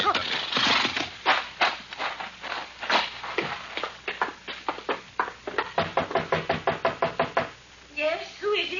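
Radio drama sound effect of horses being ridden and reined up: a rapid run of clip-clopping hoofbeats that quickens and then stops, followed by a short whinny, with brief talk at the start.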